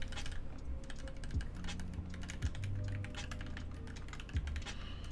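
Mechanical keyboard, a QXP board with GMK keycaps, typed on in a fast, steady stream of close, crisp clacks, with a few deeper thocks under quiet room tone.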